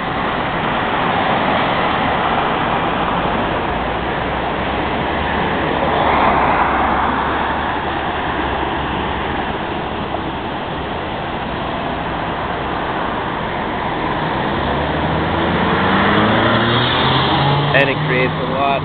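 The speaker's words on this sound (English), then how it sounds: "Right now this is all northbound traffic." Northbound road traffic at a Dubai intersection with split-phase signals, a steady roar of cars moving past at moderate distance with a few louder swells, heard alone.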